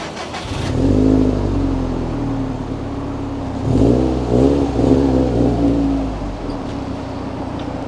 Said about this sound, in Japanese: じゃああとはマフラーサウンドいきますか。